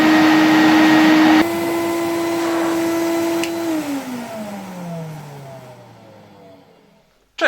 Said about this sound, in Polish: Dzisiaj bardzo chciałbym Was zaprosić na odcinek, który będzie poświęcony temu odkurzaczowi Electrolux.